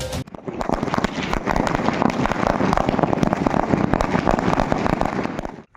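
Firecrackers burst in a dense, continuous crackling barrage at a street celebration, loud and close, with rapid overlapping pops for several seconds before cutting off.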